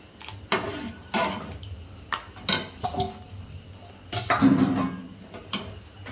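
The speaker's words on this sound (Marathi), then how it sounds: "उकळलेले शेवग्याची शेंग आणि भोपळा त्यामध्ये मिक्स केला" Boiled drumstick pods and pumpkin are stirred into a pot of hotel-style sambar, giving a series of irregular clinks, knocks and scraping strokes from a spoon against the vessel.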